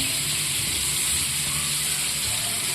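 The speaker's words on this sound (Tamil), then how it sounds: "மீனை வந்து நான் பொரிக்க ஸ்டார்ட் பண்ணிட்டேன்." Steady, dense sizzling and crackling of fish frying in hot oil, continuous and even, with no voices.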